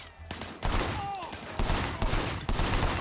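Gunfire in the video game Sleeping Dogs, several bursts of rapid shots in quick succession with booming impacts, loud and close over the game's background sound.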